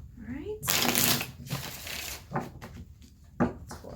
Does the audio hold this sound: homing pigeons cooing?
no